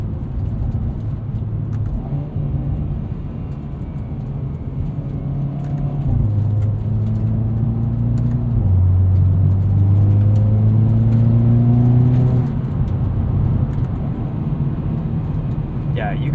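A 2021 Hyundai Veloster N with a DCT gearbox, recorded from inside the cabin: its engine drones steadily, then climbs in rising rev sweeps that step down sharply at each paddle shift, staying loud throughout.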